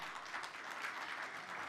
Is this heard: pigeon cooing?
no